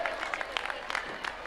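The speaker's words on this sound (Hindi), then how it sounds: "जोरदार ताली बजा के उनका अभिनंदन करें" Applause from an audience at a Panchkalyanak religious ceremony in Guwahati, a brief, steady patter of many hands clapping at moderate volume, with no distinct voices over it.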